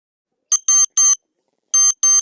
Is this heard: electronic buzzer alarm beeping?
yes